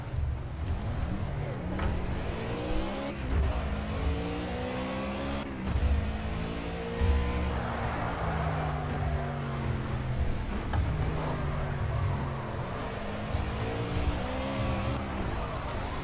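Race car in the Project Cars racing game, driven flat out at Watkins Glen with the engine revving steadily and tires squealing as it slides out of control, loud and continuous under someone talking.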